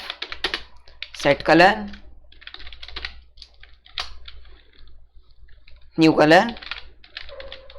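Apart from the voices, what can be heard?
typing code on a computer keyboard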